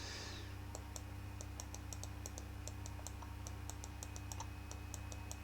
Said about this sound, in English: I'm also sorry that you guys hear the clicking of my mouse